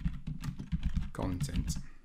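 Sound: typing on a computer keyboard

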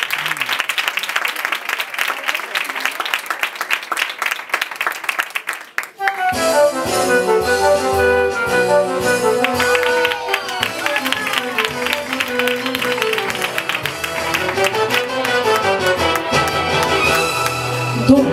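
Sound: audience applause in a theatre

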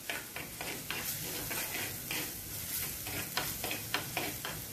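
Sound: crushed ginger and garlic sautéing in pan

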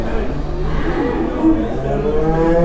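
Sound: cow mooing at livestock market

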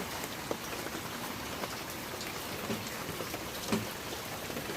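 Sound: continuous heavy rain

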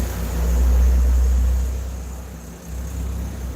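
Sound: road vehicles passing near the house

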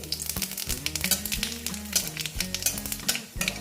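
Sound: dried red chili and five-spice tempering sizzling in oil

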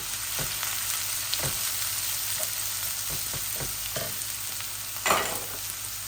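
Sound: onion frying in hot oil

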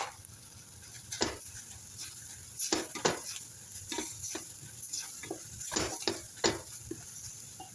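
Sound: stirring a mixture in a pan to even its colour

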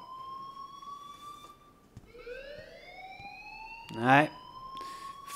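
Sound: alarm ringing in video game Life Is Strange

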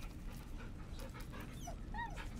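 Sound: puppy whimpering being petted in Baldur's Gate 3 video game

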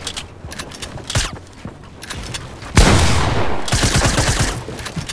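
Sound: gunshots in the video game Fortnite

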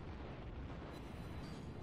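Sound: battleship gunfire salvo in World of Warships video game

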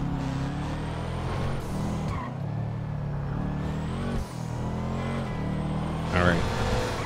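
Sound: car driving in GTA 5, video game

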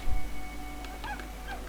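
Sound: cat meowing in the video game Brothers: A Tale of Two Sons

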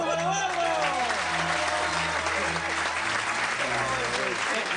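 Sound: audience applause

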